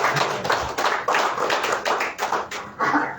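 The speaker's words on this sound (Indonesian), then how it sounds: "Beri tepuk tangan yang meriah." A church congregation in Sukabumi claps in applause, uneven rhythmic bursts of hand claps close by, loud and pulsing with short gaps between clusters.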